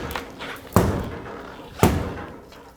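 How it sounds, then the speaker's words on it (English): Two heavy rubber mallet blows strike the back of a stuck front wheel on a 1997-2003 Ford F-150, each a loud, close thud spaced about a second apart over faint background noise. "use a rubber mallet and hit it from the backside"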